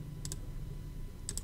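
Two quick pairs of computer mouse clicks, sharp and faint, over a quiet room hum.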